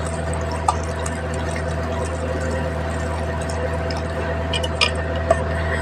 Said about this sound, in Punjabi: ਹੁਣ ਇਹਦੇ ਵਿੱਚ ਠੰਡਾ ਪਾਣੀ ਆਪਾਂ ਪਾਵਾਂਗੇ